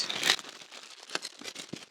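A plastic shipping bag crinkles and rustles while a cardboard box is pulled out of it: one loud crackle at the start, then scattered softer crinkles and taps, close up and alone.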